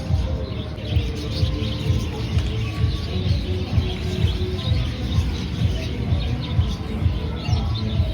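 A flock of birds chattering together, many overlapping chirps and calls forming a busy, continuous chorus at moderate loudness, with a low rumbling background underneath throughout.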